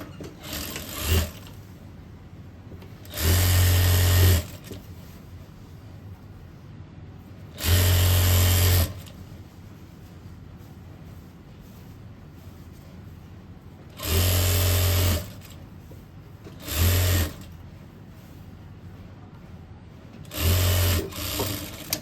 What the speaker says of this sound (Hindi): अभी सिलाई करते हैं हम।